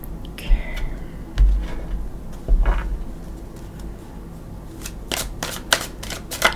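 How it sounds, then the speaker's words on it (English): Tarot cards are shuffled in several quick riffling bursts with soft slaps and taps between them, close up and without talk. "let's go ahead and give it a couple shuffles"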